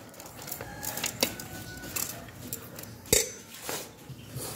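Raw mango pieces are stirred with rock salt in a metal vessel, producing scattered scraping clinks and a few sharper knocks at an irregular pace, close and fairly quiet with no speech.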